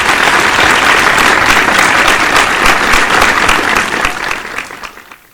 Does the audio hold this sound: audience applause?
yes